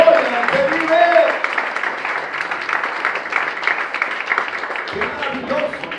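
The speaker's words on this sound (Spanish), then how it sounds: "Dale un fuerte aplauso al Señor." A church congregation claps together in a sustained round of applause, with voices and shouts mixed in over the clapping and fading slightly toward the end.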